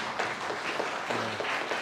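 A church congregation applauds at an elder ordination and retirement service, a soft, steady wash of many hands clapping that fills the whole stretch at a moderate distance, with no speech over it.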